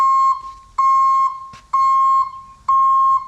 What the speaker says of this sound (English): they want backup alarms on their trucks